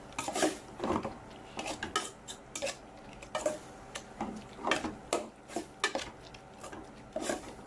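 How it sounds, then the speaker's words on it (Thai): Minced pork is stir-fried in a pan for Thai larb, cooked home style. A utensil scrapes and clatters against the pan in quick, uneven strokes, close up and fairly quiet, with no talking. "รวนหมูนะคะให้สุกนะคะ"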